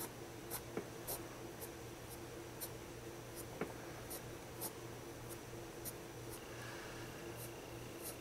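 Pencil drawing tree branches on paper, a soft scratchy writing sound with repeated light strokes, faint and close against steady background hiss.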